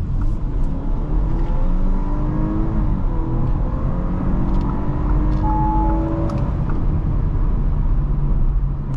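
A 2021 Audi A5 Sportback's 2.0-litre turbocharged engine hums and revs up through rising tones, steady and strong under a constant road rumble from inside the car.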